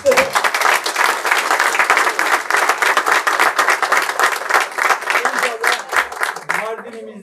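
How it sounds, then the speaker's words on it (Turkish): Strong applause from an audience at a Turkish public event, loud close clapping with a lively uneven rhythm that fades near the end as a voice begins to speak. "Kuvvetli bir alkışla"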